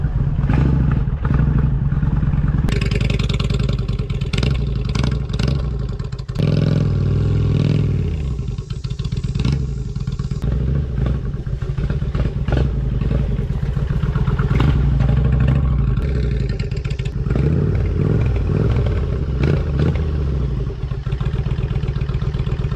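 A cruiser motorcycle rides off pavement toward a campsite, its engine rumbling loudly and continuously with surges of throttle, clattering and thumping over rough ground throughout.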